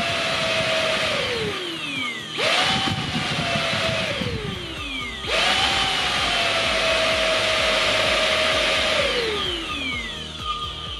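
A Xiaomi Dreame XR cordless vacuum cleaner running close by, its motor whine rising sharply as it switches on and falling away as it stops, repeated three times with brief gaps between.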